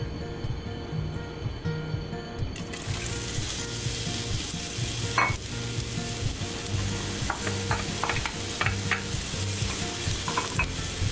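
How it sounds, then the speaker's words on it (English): Onion frying in hot oil in a pan, a loud, continuous hiss that swells as the onion goes in, then keeps sizzling with occasional crackles and stirring taps. "Once the oil is hot, I'm going to add in the onion."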